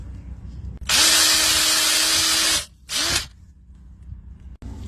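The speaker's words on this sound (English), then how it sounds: "All soldered up the best we can do in that tight spot." A torch roaring steadily while soldering a copper pipe fitting for a hose bibb in a tight spot, one long loud hiss followed by a shorter burst, close and with no talking.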